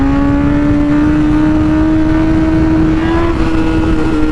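Honda CBR1000RR SP sportbike, a 2019 model, revs hard in a steady high-pitched engine wail that climbs slightly as the front wheel lifts in a small wheelie, loud and close throughout with no voices.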